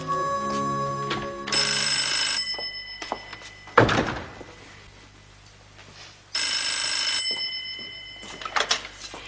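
An old telephone bell rings loudly in two long bursts, with a dull thunk and quieter room sounds between them, in a 1988 Czechoslovak TV comedy series.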